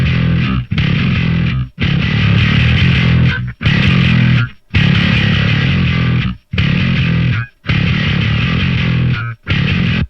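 Heavily distorted electric guitar playing loud, chugging rhythmic bursts, each phrase cut by short pauses, with a nasty, gritty tone lacking top-end brightness, heard alone with no voices.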